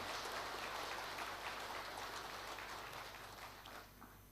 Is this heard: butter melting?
no